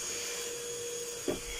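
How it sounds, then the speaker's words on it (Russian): A household vacuum cleaner runs with a steady, continuous drone through a home being tidied for guests, with a short bump partway through as the nozzle knocks against something. "Ну, давай, давай, пылесось."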